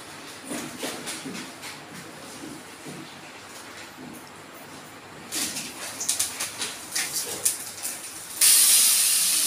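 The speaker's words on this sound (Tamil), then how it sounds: "சட்னிக்கு வந்து வெங்காயம் தக்காளி வைக்க போறேன்" Onions and tomatoes frying in a pan for chutney make a soft hiss that turns louder and crackly toward the end, rising into a strong, close sizzle.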